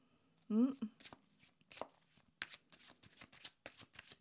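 Tarot cards are shuffled during a card reading, making quick riffling and soft slapping bursts in an irregular rhythm, close and quiet, with a voice speaking briefly at the start.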